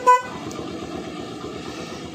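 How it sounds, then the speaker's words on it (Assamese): An extra, expensive horn fitted to a second-hand motorbike gives one short, loud honk, then an engine idles steadily. "হৰ্ণটো এক্সট্ৰাকৈ লগাই থোৱা আছে, দামী হৰ্ণটো মই দি পেলাই দেখুৱাই দিছোঁ।"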